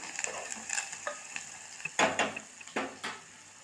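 Green chillies and onion frying in a pan for ridge gourd curry, a soft sizzle under sharp scraping and clattering strokes of a stirring spoon, a few louder scrapes near the end, no talk.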